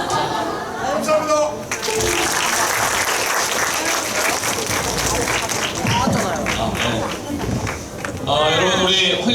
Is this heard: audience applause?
yes